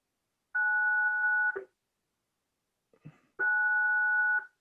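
An electronic gate bell at a home sounds twice, each a steady two-tone electronic ring lasting about a second, separated by a pause with a faint clunk, fairly close and clear with no talking.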